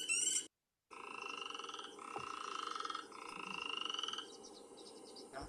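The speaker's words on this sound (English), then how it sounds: "that's what a chorus frog sounds like" Chorus frogs trill in a series of long, rapid pulsing calls, several overlapping trills rising and falling in a continuous chorus, close and fairly loud, heard without any talking.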